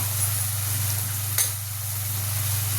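Onion and spices sautéing in a pan give off a steady, even sizzle close by, with one brief stirring scrape near the middle and no talking.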